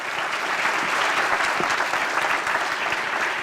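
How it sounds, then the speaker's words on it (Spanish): A church congregation applauds together in a dense, steady burst of clapping that fills the room, lasting the full few seconds without pause. "Dale un aplauso al Señor fuerte."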